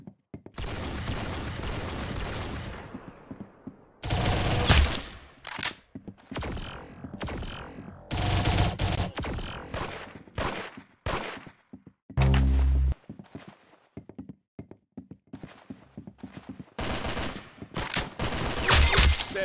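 Bursts of gunfire crack out in loud, separate volleys, with single shots and rapid strings spread across the stretch, each cut by short pauses and no talking.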